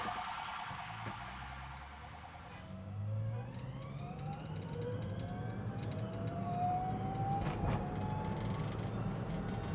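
A wailing emergency vehicle siren rises and falls in sweeping tones over steady traffic rumble, heard from inside a Citroen Ami, growing clearer partway through.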